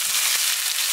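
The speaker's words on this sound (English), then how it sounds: "And now time to add onions, the chopped onions." Chopped onions hitting hot oil in a pan while cooking chana masala, giving a steady, bright sizzle that fills the whole moment, close and continuous.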